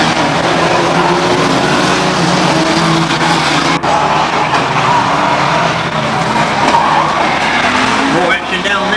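Banger racing cars at Ringwood Raceway roar and grind in a loud, continuous din of engines, tyre skids and impacts, with a commentator talking over the action.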